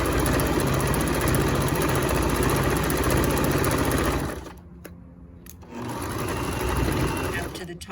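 A sewing machine stitches a 1/8-inch hem on a quarter top pocket, running steadily and close, briefly pausing midway before resuming at the same even pace. Faint talk sits under the machine.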